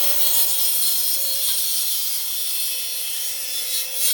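A Parkside 20V cordless circular saw trims an angled end off a piece of wood, a loud, steady high motor whine with cutting noise that holds for about four seconds and then cuts off abruptly.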